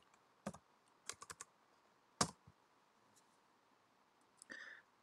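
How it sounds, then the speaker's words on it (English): Soft, close keystrokes on a computer keyboard as a command is typed to delete a USB stick partition in Windows, in a few short bursts with pauses between them and a final longer press. "we just need to type in the words delete"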